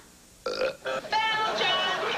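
A long, drawn-out belch with a rough tonal body rings out loud and close in a comic advertisement for a product called Belch On, beginning after a brief quiet lead-in.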